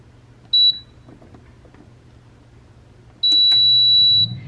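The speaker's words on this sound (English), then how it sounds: "we are gonna put these in the air fryer at 350 for 12 minutes" An air fryer being set to 350 degrees for 12 minutes gives a short high electronic beep, then after a quiet pause a longer sustained beep, with soft clicks and faint room noise, and no talk.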